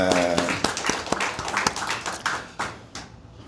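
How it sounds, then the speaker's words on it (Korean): A Sunday church congregation gives a round of applause during worship, dense clapping with distinct sharp hand strikes that swells and then fades out within a few seconds. "박수 한번 하도록 하겠습니다."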